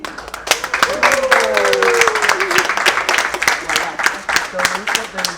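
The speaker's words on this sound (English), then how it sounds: "And we clap our hands" People clap their hands at a launch event, a burst of scattered applause mixed with cheering voices and chatter, steady through the whole moment with a few louder claps standing out.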